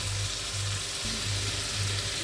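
Frozen peas and meat fry steadily in a hot pan, giving a continuous, dense sizzle with no pauses and a faint low pulsing hum beneath it.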